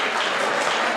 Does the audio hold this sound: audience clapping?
yes